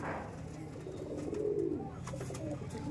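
Madrasi pigeons bred for long flights let out a single low, rolling coo in the middle of a quiet, steady background hum.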